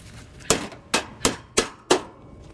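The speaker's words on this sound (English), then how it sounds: "Need somebody to put a hammer on it, that's the problem." Five sharp metallic hammer blows in an uneven rhythm, ringing briefly, with no talking.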